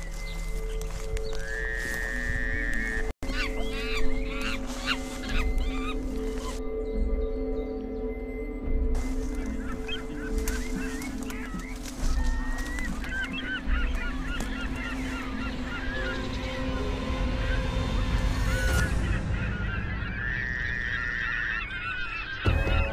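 Geese honk and call repeatedly in a patch of undergrowth in Lower Saxony, loud and close, with other bird and animal noises and rustling in between and no talk.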